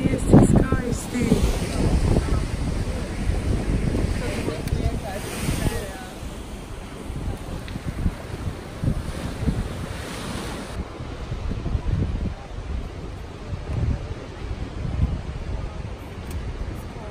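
Strong wind buffets the microphone outdoors on the Maltese coast, with loud gusting roar and crashing surf throughout, while someone talks intermittently over it.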